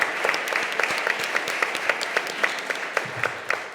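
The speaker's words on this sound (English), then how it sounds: "we should have another round of applause for the presenters" Applause for presenters at a conference session, a steady patter of many hands clapping throughout the room at moderate volume.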